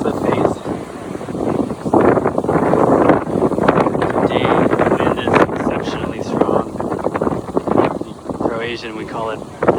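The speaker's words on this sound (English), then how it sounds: "It is so windy today." Strong Bora wind blasts across a huge cliff face near Starigrad Paklenica, Croatia. Loud, gusting wind roars and buffets the microphone throughout, with voices faintly present underneath.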